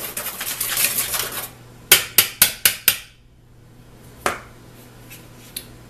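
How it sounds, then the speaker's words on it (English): Dry biscuit ingredients, including a teaspoon of xanthan gum, are stirred in a bowl for gluten-free buttermilk biscuits, giving a dense scraping patter, then five sharp spoon taps on the rim and a couple of lone clinks. "Now we just mix to combine."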